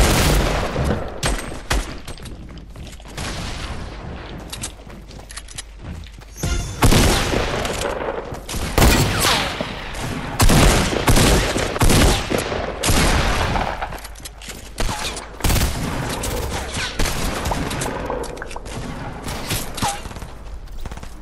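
Loud Fortnite gunfire crackles in repeated bursts of rapid shots and booms, with brief quieter gaps between volleys and a dense stretch of sustained fire in the middle.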